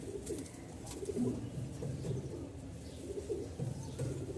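A Bashiraj cock pigeon coos softly in repeated low, throaty phrases, fairly quiet and a little distant, with a few faint chirps from other birds in the background.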